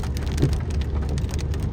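Heavy rain falls in Makkah as a dense, steady hiss and patter with no pauses or voices.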